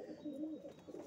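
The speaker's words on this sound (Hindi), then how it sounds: "ये लाल कबूतर है ईसा भाई का" A red pigeon coos in a steady low murmur, moderately close, running through the whole short moment with no voices.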